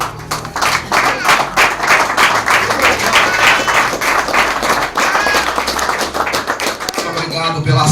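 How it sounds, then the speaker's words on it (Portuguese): Congregation applauding in a church service, a steady wash of dense clapping that holds at full strength across the whole stretch, with faint voices mixed in. "Obrigado pelas palmas"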